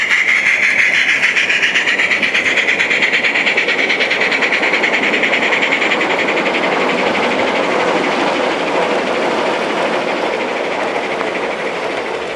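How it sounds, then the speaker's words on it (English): Gauge 1 fine scale brass Black 5 model steam locomotive with fitted sound, radio-controlled, giving a loud, steady, continuous rapid chuffing with a hissing steam texture close by, alone throughout. "This fine scale brass locomotive is controlled by a TX21. So we just turn up the volume and away she goes."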